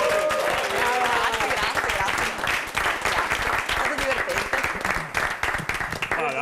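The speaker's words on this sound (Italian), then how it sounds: "Dai, un applauso alla dolcissima." An audience claps loudly and continuously for several seconds, with voices mixed in among the applause.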